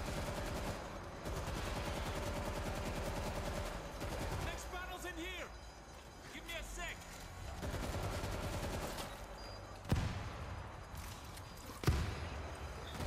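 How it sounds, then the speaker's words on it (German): Gunfire in the zombie shooter World War Z rattles in dense, rapid bursts with a few sharper isolated shots standing out, mixed with other game action and continuing under a stretch of ongoing noise. "Der schießt ja auch mit der Pistole auf den."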